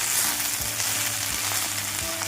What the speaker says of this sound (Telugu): బాగా నీట్గా కడిగి పెట్టుకున్న మునగాకు కదా, అది కూడా వేసి బాగా ఫ్రై చేయాలి